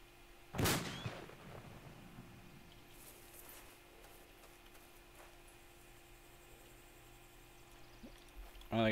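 A frag grenade goes off in ARMA 2 with one loud, close blast near the start, followed by a long stretch of quiet ambient background and a brief burst of noise at the very end.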